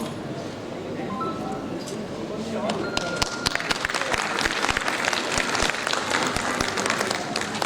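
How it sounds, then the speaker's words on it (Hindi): An audience at an award ceremony at the Bundeli Mahotsav breaks into applause, dense clapping that builds after a few seconds and keeps going steadily, with an announcer's voice heard at the start. "एक बार फिर तालियों के साथ अभिनंदन।"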